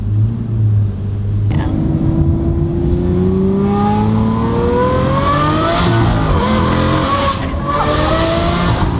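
An Aston Martin V12 at a car show revving hard, its pitch climbing steadily through long rising sweeps, loud and near, with tire squeal mixed in and brief crowd voices under the engine.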